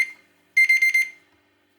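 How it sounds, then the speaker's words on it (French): An alarm clock rings in a short burst of rapid, shrill electronic beeps lasting about half a second, loud and close, in an otherwise quiet room. "désolé, mon alarme vient de sonner."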